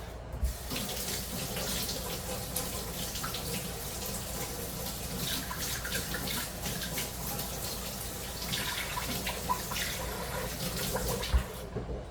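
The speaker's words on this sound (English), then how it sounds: "Let me rinse my spatula off." A kitchen tap runs steadily as a spatula is rinsed under it, a continuous close splashing stream with occasional small clatters.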